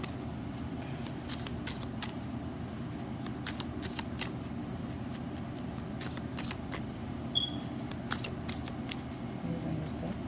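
Tarot cards are shuffled in repeated quick riffling bursts that keep up a steady, close, soft rustle over a constant background hum.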